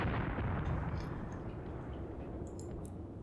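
Artillery guns firing in the Graviteam Tactics war game, a dense rumbling barrage of booms blending into a continuous low roar with a few sharp crackles on top.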